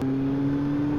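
A motorcycle engine gives a steady, close droning hum with a firm low tone, heard alone for about a second.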